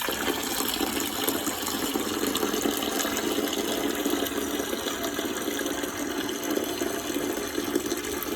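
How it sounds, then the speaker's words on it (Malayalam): Steady rushing flow of water slowly poured off settled arrowroot starch, continuous and even throughout, close and moderately loud with no voices. "ഊറ്റി പതുക്കെ ഊറ്റി ഒഴിക്കും."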